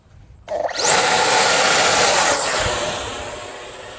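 A 50mm–90mm Viper Jet electric ducted fan RC jet throttles up for takeoff, a sudden loud rising whine that climbs to a sustained piercing high tone with a rushing roar, then slowly fades as it pulls away.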